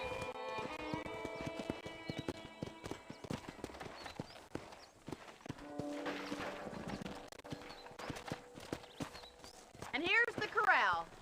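Horse hooves clip-clop in a steady walking rhythm in the video game Red Dead Redemption, joined by a neigh near the end, with musical tones and faint talk in the background.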